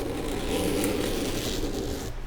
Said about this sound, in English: Such a smooth, heavy-duty, good zipper.